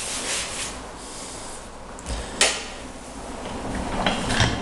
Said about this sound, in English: that coffee grinder will grind fine for your espresso